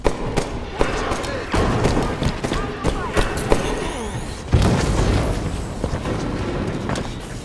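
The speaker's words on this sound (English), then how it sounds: "grenade!" A grenade detonates in a Halo match, a sharp booming thud amid a busy, loud mix of gunfire, mechanical clatter and game effects, with a second heavy blast a few seconds later.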